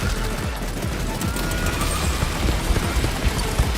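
Minigun fire in the cowboy shooter Far Far West: a dense, continuous roar of rapid gunfire with rattling impacts, loud and unbroken throughout.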